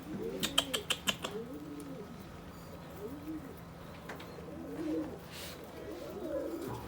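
Soft, repeated cooing from young white Baghdad pigeons rises and falls against a steady background hum, opening with a burst of sharp clicks or flaps.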